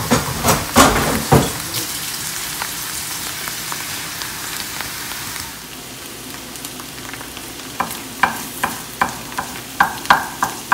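An egg is scrambled into cauliflower rice in a frying pan, with a steady sizzle under a run of sharp scraping and stirring strokes, dense at the start, a calmer stretch of frying in the middle, then a quick series of spatula taps near the end.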